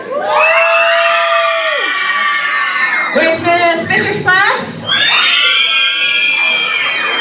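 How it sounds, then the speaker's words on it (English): Third- to fifth-grade children at an elementary school assembly cheer and scream loudly in two long bursts, and an adult calls out between them over the microphone. "If you are in Miss Bird's class, I want to hear you cheer."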